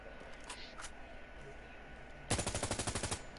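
A video game automatic weapon fires a sudden loud burst of about a dozen rapid, evenly spaced shots, breaking in after a quiet stretch of faint background sound.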